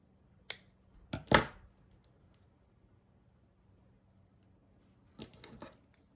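Scissors snip through a flower stem during a wax seal craft session, a few crisp close cuts in quick succession, then a brief rustle and another cluster of snips after a quiet pause.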